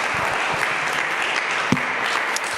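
A church congregation applauding together, a dense, steady clapping that fills the space evenly for a few seconds, close and loud, with no words spoken.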